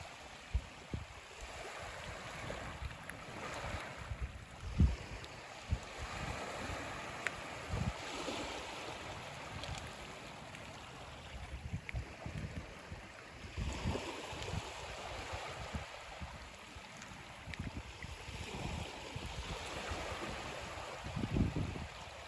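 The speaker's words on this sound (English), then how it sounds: "I think I'm going to be quiet and let you enjoy some beach time." Gentle island beach ambience with small waves lapping and washing near a kayak, soft and irregular, with faint breeze and occasional louder splashes.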